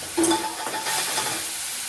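A water-mixed paste of chili, turmeric, cumin and coriander tipped into a hot frying pan while cooking Bengali crab curry, a quick splash and stir followed by steady close sizzling.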